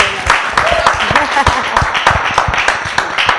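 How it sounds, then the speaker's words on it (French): Applause from an audience, steady clapping throughout with a voice talking over it. "On les applaudit encore."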